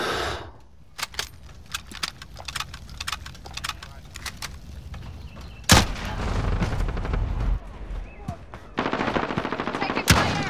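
Rapid bursts of automatic gunfire and scattered single shots crack through a multiplayer match of Call of Duty: Modern Warfare, some near and loud, others more distant, with a long sustained burst late on.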